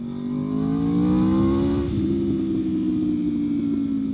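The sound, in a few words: V4 motorcycle engine revving, Leo Vince exhaust pipe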